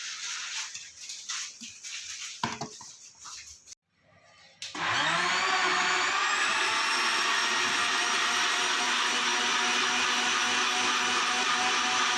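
A blender whirs loudly and steadily, churning cut watermelon with sugar and cream into a shake; after a few seconds of softer handling noises and a brief pause, the motor roars up and holds a continuous high whine to the end.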